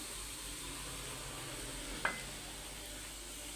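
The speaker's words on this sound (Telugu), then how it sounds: "10 నిమిషాలు దీన్ని ఫ్రై చేసుకుందామండి. ఈ వెజిటేబుల్స్ అన్నీ బాగా వేగాయండి." Vegetables frying in a pan for a bread sandwich filling, a steady soft sizzle running throughout with one brief clink of a utensil partway through, no voices.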